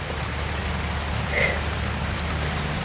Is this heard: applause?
no